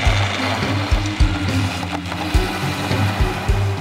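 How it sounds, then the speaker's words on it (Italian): A KitchenAid food processor running at speed 1 with the grating disc, shredding cauliflower: a loud, close motor whir broken by regular rhythmic thumps as pieces hit the blade. "Inserite il disco per grattugiare e tritare e impostate il food processor a velocità 1."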